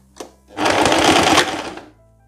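A sewing machine runs a single short burst of about a second and a half, stitching a seam in the lining of a long winter blazer, loud and close, preceded by a faint click.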